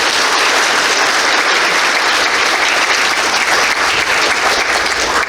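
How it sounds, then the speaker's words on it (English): A crowd claps steadily and loudly for several seconds, a dense, continuous wash of applause. "Let's give our panel a round of applause."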